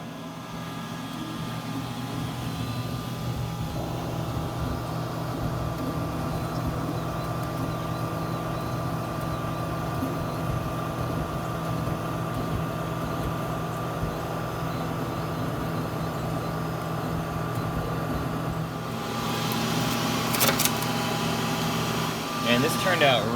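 A K40 laser cutter cuts a thin template at 35 mm per second, giving a steady droning hum of fans and motors with tonal whine that runs unbroken throughout, a brief rattling clatter near the end.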